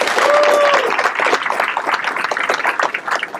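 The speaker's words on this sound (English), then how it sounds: "please give our command team a round of applause" Applause for a command team at a swear-in ceremony, a loud, dense burst of many people clapping that begins with a whistle or cheer and continues steadily, tapering slightly toward the end.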